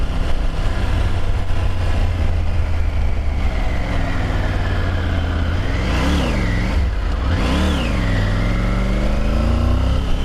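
A 2021 Triumph Tiger 900 Rally Pro motorcycle hums steadily at close range with a low engine drone. Midway the revs rise and fall twice in swelling surges, and wind rushes throughout.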